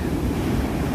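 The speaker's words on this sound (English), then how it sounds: "The sound of the waves roaring against that beach." Ocean waves roar steadily against a beach in Lisbon at sunset, a dense continuous wash of surf mixed with wind buffeting the microphone, loud and close with no voices.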